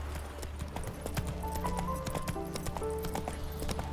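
Geralt's horse gallops in The Witcher 3, its hooves beating a steady, fast clip-clop rhythm throughout, close and clear over tonal game music.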